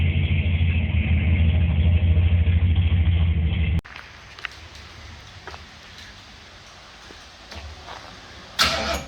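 A car engine with a newly fitted exhaust rumbles loudly with a deep, throaty exhaust note for about four seconds, then cuts off, leaving quieter background noise and a brief bump near the end.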